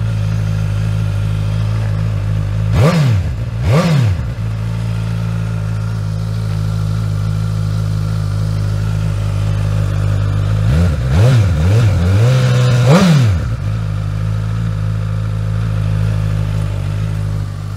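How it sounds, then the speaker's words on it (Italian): A Suzuki Katana 1000 four-cylinder motorcycle with a short Euro 4 exhaust idling deep and full, then revved in sharp blips, two early and a cluster of three later, each rising and falling quickly. "Classica timbrica, 4 cilindri ma bello cupo, bello pieno e veramente bello per essere uno scarico Euro 4."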